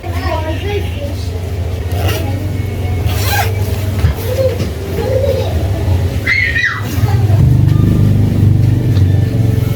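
A car driven in the Philippine countryside hums with a low steady engine drone that swells louder toward the end, while people and children talk over it.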